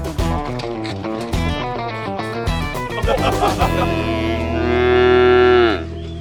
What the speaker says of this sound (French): Les vaches, c'est cool aussi. Ça fait meuh.